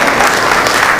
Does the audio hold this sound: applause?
yes